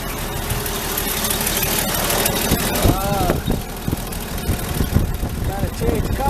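An engine idling just after being started with a little choke, a loud, steady low-pitched rumble with some rough, uneven knocking and clatter mixed in.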